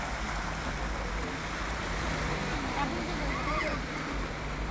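Sea waves wash against the rocky shore at Harihareshwar in a steady, roaring surge, blended with constant wind buffeting the microphone and faint voices underneath.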